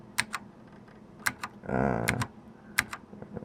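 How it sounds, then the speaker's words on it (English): Keys on a 1993 Focus FK9000 keyboard are pressed one at a time, producing sharp, close plastic clicks at irregular intervals, with a brief electronic hum partway through. "Let's press a few more number 8 keys and see what happens."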